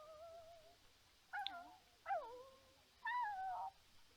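Several meows from a cat in The Sims 4 life simulation game, four short rising-and-falling calls spaced over a few seconds, moderately close and alone over a faint background hum.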